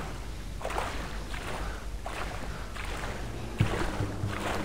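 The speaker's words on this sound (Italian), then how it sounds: "Questa cosa è una moto d'acqua." A jet ski skims across the water in Far Cry 3, its rushing spray swelling in repeated surges over a steady low engine drone, with one bump near the end.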